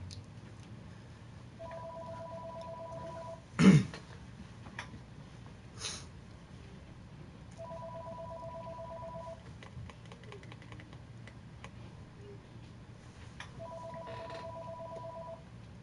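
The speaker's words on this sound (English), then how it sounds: "You can still hear the phone." A telephone rings in three spaced bursts of steady two-tone trilling, fairly faint in a quiet room. A sharp knock interrupts the first gap.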